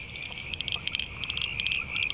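Frogs call from a wetland, rapid high pulsed trills repeating in quick bursts over a low steady background hum, moderately near.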